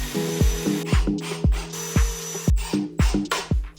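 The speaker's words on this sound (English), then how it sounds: "I flipped the shelf around and screwed in the rest." A power drill drives screws into a wooden comic book shelf, with repeated short whirring bursts and ratcheting clicks, about eight pulses in under four seconds, close up and loud, no talking.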